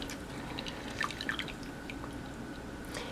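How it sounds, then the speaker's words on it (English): Fresh lemon juice squeezed into a teacup, heard as a few faint, close drips and trickles over quiet background hiss. "now we're going to squeeze our lemon juice inside of our teacup"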